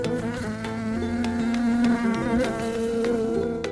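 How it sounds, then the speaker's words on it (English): A wasp buzzes in a steady, droning hum that wavers slightly in pitch, loud and close, heard alone without speech. "Wasp."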